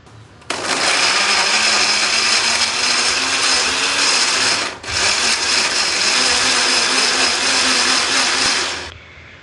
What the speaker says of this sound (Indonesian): Tambahkan sedikit air supaya lebih gampang untuk menghaluskannya